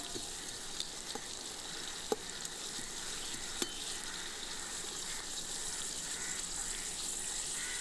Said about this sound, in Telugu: టమాటా కాయలు యాడ్ చేసుకుందామండి అవి అలా నూనెలో ముగ్గుతాయి